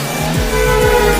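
A car drives along a pedestrian walkway, its engine rising in a loud, close, steady rush that sweeps upward with pitch glides.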